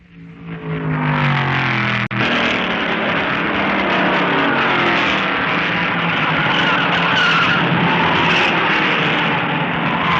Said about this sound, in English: But Foyt passes Jones before he can get back onto the track.